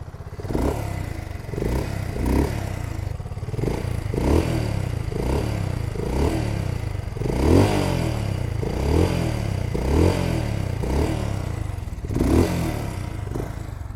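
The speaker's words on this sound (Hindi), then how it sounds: "Let me show you the exhaust note of gold star 650।" A BSA Gold Star 650 single-cylinder motorcycle idles and blips its throttle, the exhaust giving a deep, loud, rhythmic thump with repeated rev surges roughly every second, close up.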